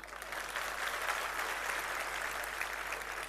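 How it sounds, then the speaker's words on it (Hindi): Steady, fairly faint applause from a crowd at a political speech, a continuous wash of many clapping hands without distinct individual claps and with no talk. "इसलिए ताली इनके लिए और बजा दीजिए"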